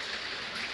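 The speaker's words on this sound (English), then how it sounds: "The rain's really coming down now" Heavy rain falls on a building site during an outdoor dig, a dense, steady hiss with no distinct drops, close and continuous.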